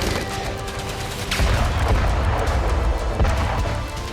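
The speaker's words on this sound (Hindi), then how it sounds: "यहां रूस की 200वीं ब्रिगेड आर्टिलरी से फायरिंग कर रही है।" Heavy artillery from a Russian brigade fires on a battlefield near Artemovsk, with several loud booms and cracks over a dense, rumbling background of distant gunfire.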